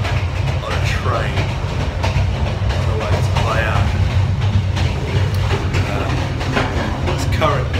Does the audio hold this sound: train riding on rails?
yes